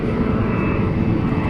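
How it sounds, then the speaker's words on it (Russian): An airplane taking off from an airport near Buenos Aires makes a loud, sustained engine roar with a steady tone, heavy and continuous throughout. "Он с аэропорта взлетает."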